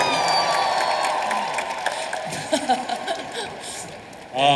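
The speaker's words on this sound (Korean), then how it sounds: "감독님께 뜨거운 박수 부탁드리겠습니다" Audience applause at an open talk for a film at the Busan International Film Festival, fairly close clapping that fades out as cheers and laughter pop up, with a brief burst of noise at the end.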